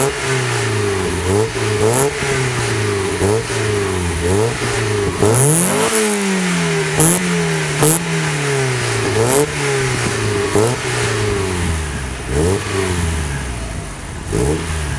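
A car engine in Forza Horizon 5 revs repeatedly, with rising and falling pitch sweeps through the gears. The revving is loud and close and plays alone throughout.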